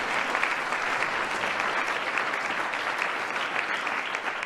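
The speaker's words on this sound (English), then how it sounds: "Give yourselves a round of applause." Steady, dense applause fills a room as a crowd of White House senior staff and their gathered family and friends clap continuously at a swearing-in ceremony.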